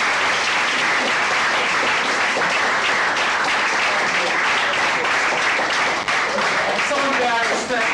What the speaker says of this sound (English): I'm going to give just a minute for tremendous applause